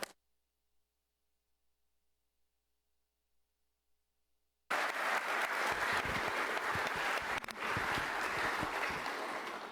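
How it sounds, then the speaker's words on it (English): Audience applause at a nursing pinning ceremony for a community college class: near silence for several seconds, then sudden sustained clapping from a crowd that continues steadily to the end. "Please join me in a round of applause for Class 76 and Class 77."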